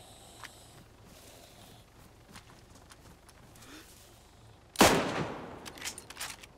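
Gunfire in DayZ: a single loud, sharp shot about two thirds of the way through, followed by a few fainter cracks and faint game ambience, with no talk.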